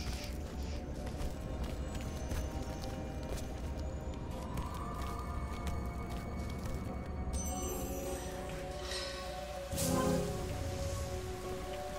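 Steady rain in the video game Lara Croft and the Temple of Osiris, a dense continuous hiss and patter throughout, with a brief louder burst near the end.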